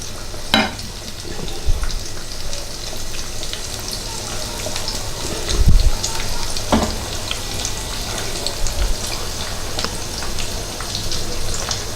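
Beef chops fry in hot oil with a dense, crackling sizzle. Sharp pops and a few knocks from pieces being added or stirred rise out of the sizzle, and there is no talk.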